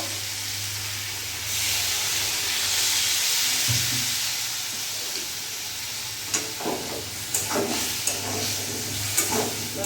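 Ground spices such as cumin sizzling in hot oil in a pan while being stirred for a prawn curry, a steady close frying hiss with a low hum beneath and scraping spoon clicks toward the end.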